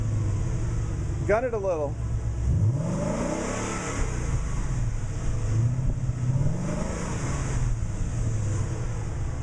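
A car engine with a newly installed Corsa X-pipe exhaust cranks and fires up, then settles into a loud, steady idle with rumbling low swells. A person talks over it close by.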